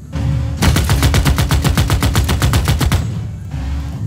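Rapid, evenly spaced bursts of machine-gun fire from a military encampment in Civilization VI rattle loudly for about two and a half seconds, then stop, leaving a low rumble.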